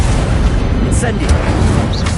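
Fire spell cast in Hogwarts Legacy: a short whooshing burst of magical flame that pops out sharply, lasting about two seconds with a steady roar.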